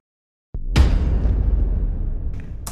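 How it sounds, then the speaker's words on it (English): A deep cinematic impact hits with a booming bass drop, then a long rumbling tail decays, with a faint whoosh near the end. "It's a combination of bass drops and impact samples, those cinematic kind of things."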